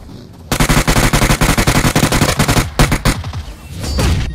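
Rapid automatic gunfire from a mobile shooter game, a long sustained burst of loud rattling shots followed by a few shorter bursts that trail off into a low rumble.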